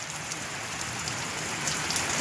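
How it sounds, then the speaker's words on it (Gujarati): Heavy rain pours down, with water streaming off the roof eaves in a dense, steady hiss close by, and no thunder stands out in this short stretch. "અટાણે ગાજવીજ ને ફૂલ વરસાદ ચાલુ થઈ ગયો"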